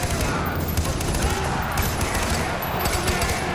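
Rapid automatic weapon fire from the Far Cry 4 arena mode crackles continuously in dense bursts, loud and close, with a game soundtrack underneath.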